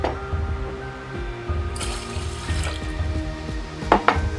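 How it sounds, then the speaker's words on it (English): Water is poured into a rice cooker with rice inside, a gurgling, splashing flow, followed by a couple of light clinks near the end. "pour in 2 mugs full of water"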